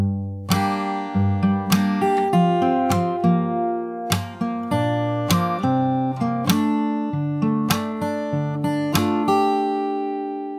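Fingerstyle guitar playing a later section of a song, with a steady run of picked melody notes over ringing bass, played up close and alone.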